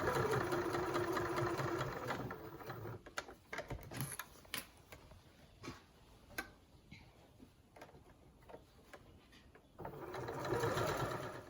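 Domestic sewing machine stitching back over earlier seams on fabric for an advent calendar, running in bursts at close range with steady mechanical whirring, starting and stopping several times and picking up again at the end, no talking.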